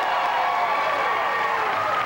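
A crowd at a 1993 AVP beach volleyball semi-final in Hermosa claps and cheers in a steady wash of applause, with a commentator's voice running over it.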